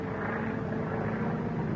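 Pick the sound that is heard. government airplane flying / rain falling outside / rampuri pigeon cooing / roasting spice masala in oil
government airplane flying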